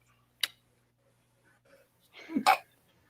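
A single sharp sneeze bursts out near the end, preceded by a brief intake of breath, close to the microphone in a quiet room, with a smaller snort-like burst earlier.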